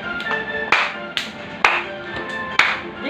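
A young boy claps his hands at home with his father, four or five distinct, fairly close claps spaced irregularly over a soft background murmur.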